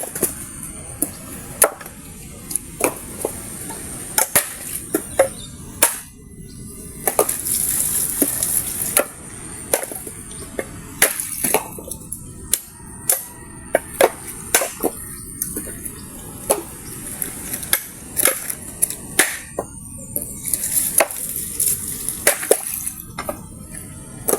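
Water from a shower splashes and runs steadily, with frequent sharp drips and plinks scattered throughout and no talking.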